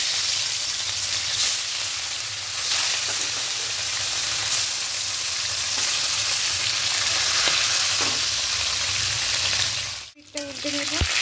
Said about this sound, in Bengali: মাছগুলো একে একে দিয়ে দেবো।